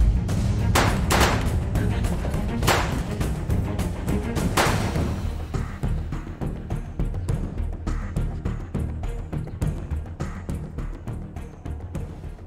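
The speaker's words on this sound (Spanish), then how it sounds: "¿Escucharon eso? Son disparos." Gunshots go off in a narco police film scene near a bar, several sharp cracks early on followed by a denser run of quicker, fainter bangs, all without speech.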